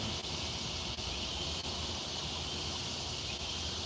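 Cicadas drone at sunset beside a railway line half a mile from an interstate highway, a faint, steady high-pitched hiss-like buzz that never lets up, with a low traffic rumble underneath and no talking.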